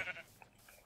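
Short sheep bleat in the Minecraft video game, an airy, nasal cry at the start followed by quieter game ambience, alone with no talking.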